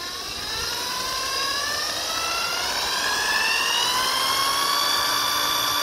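A drill spins a 130 amp car alternator rotor on a bench test, a loud continuous whine whose pitch climbs steadily as it speeds up, heard alone with no talk.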